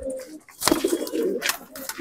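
Punjabi Malwai pigeons coo softly at close range, a few low throaty calls in quick succession with brief gaps, against a quiet background.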